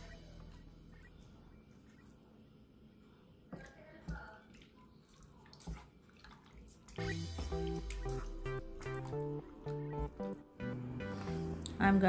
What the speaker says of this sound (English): Just squeeze all the juice of it.